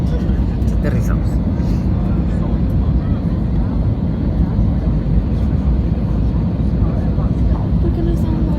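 Cabin of an EasyJet Airbus A320 landing in wind at Berlin Tegel, a loud, steady low engine and airflow roar filling the whole stretch, with people talking faintly under it.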